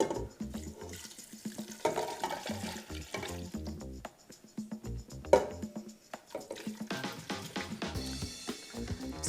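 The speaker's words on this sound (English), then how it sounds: "I'm also going to add all but 1 cup of the remaining broth here" Broth pours from a container into a pot of chopped broccoli for a dairy-free soup, a gurgling, splashing stream that rises and falls over several seconds, fairly close and moderately quiet, with no talking.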